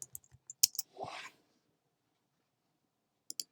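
Keystrokes on a computer keyboard as a web search is typed, a quick cluster of close, crisp clicks, a brief soft rustle, then a pause before a few final taps.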